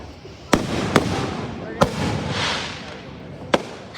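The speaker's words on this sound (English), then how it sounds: "Happy Fireworks Day." Fireworks go off in a series of sharp, loud bangs, roughly five over four seconds, against a constant crackling rumble, while people nearby exclaim excitedly.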